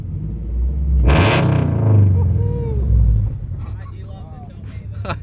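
A Subaru BRZ with a straight Tomei exhaust revs hard once with a loud, raw exhaust roar, then settles back to a rumbling idle.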